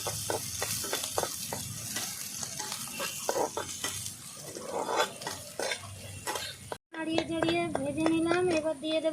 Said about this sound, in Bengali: পেঁয়াজটা দিয়ে দেবো এখানে ছোট ছোট দুটো পেঁয়াজ কুচি করে নিয়েছি রঙের লঙ্কাও দিয়ে দেবো ভালো করে একটু নাড়িয়ে চাড়িয়ে নেবো